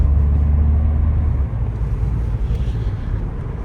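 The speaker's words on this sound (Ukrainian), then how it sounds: "Ось такі нас оберти." A Citroën C4 Picasso 2.0 HDi diesel engine with Aisin automatic transmission drones steadily at low pitch from inside the cabin, its revs holding high and then easing slightly, with road and wind rumble underneath.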